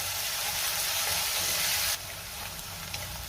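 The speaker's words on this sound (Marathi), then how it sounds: "कांदा आपल्याला हलक्या गुलाबी रंगावर परतून घ्यायचा आहे।" Chopped onion sautés in a pan with a loud, close sizzle that abruptly drops to a quieter hiss partway through, with small scrapes and clicks afterward.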